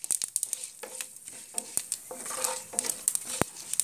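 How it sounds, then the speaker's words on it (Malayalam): Dried curry leaves dropped into a hot pan of lemon pickle crackle and sizzle, with scattered sharp pops and a metal spoon stirring and scraping. "ഞാനിതിലേക്ക് ഇനി കറിവേപ്പില ഇടുകയാണ്."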